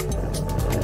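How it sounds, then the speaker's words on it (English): A jaguar gives its rough, low sawing call, a grunting, coughing rasp that stays loud and close with no talking over it. "Instead, they make a unique sound called a sawing or coughing sound."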